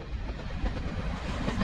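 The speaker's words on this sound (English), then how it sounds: "This BR Class 117 DMU set is looking very fine out on the line today." A BR Class 117 diesel multiple unit from the 1960s runs on the Swanage Railway in Dorset, its steady rumbling engine and rolling wheels loud and close throughout, with no voices.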